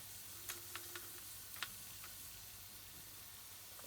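Whole cardamom pods, peppercorns and cloves sizzle in hot oil over medium heat, a faint, steady hiss broken by a few small sharp pops and crackles, with no talking.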